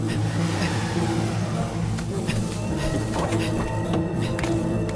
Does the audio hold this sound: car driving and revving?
yes